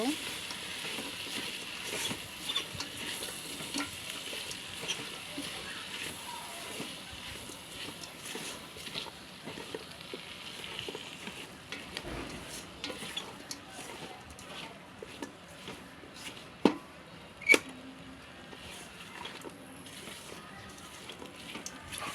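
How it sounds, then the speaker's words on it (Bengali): Potatoes and jackfruit seeds are stirred in a frying pan with a steady, close sizzle and occasional scraping, plus two sharp knocks near the end. "আলুগুলো দেব তারপর কাঁঠালের বিচিগুলো দেব দিয়ে একটু নাড়াচাড়া করব"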